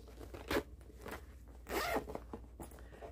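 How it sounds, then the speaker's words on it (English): A zipper on a fabric storage bag with pull tabs is run open and closed, giving two distinct rasping zips close to the listener, with a few softer handling rustles between and after them. "It's got a little bob on the zippers, so it makes it easy to open and close."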